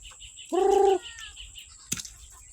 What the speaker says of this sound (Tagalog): Ano yung manok.